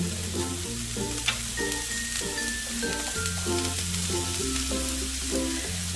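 Chopped vegetables for oats khichdi sizzle in a wok and get stirred, with a steady loud frying hiss over a low, changing musical drone.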